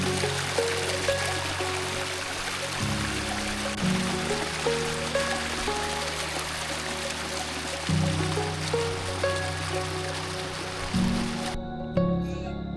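The Snowy River at Buchan, Victoria, flowing: a steady broadband rush of moving water, constant and close, with faint tonal hums shifting underneath and no talking.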